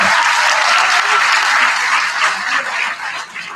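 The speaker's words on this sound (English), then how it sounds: "While we're clapping" A loud, close audience applauds at an eighth grade promotion ceremony, filling the room with continuous dense clapping that thins slightly toward the end.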